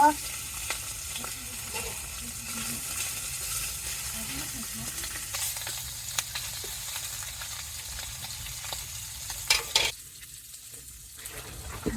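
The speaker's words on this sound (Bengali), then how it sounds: "এই যে মাছটি দিয়ে দিলাম প্রথমে মাছটি ভেজে নেব" Fish fries in hot oil with cumin, giving a steady, fairly faint sizzle that runs throughout, with a few sharp pan clinks and stirring scrapes near the end.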